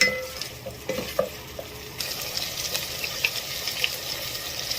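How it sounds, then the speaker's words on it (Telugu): Spices fry in oil for a mutton and ridge-gourd curry, giving a soft continuous sizzle with occasional clinks and scrapes of a spoon stirring the pan. "ఇది పచ్చి వాసన పోయేంత వరకు మంచిగా ఫ్రై చేసుకోవాలి"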